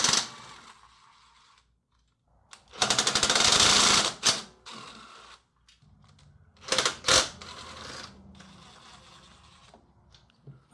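A 10 mm socket and ratchet loosening and removing the valve cover bolts on a Troy-Bilt TB30 Powermore 10.5 HP engine, heard as bursts of close metallic clicking and rattling separated by quiet gaps.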